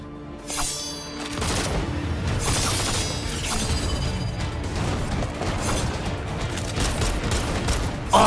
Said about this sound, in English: She uses a pistol!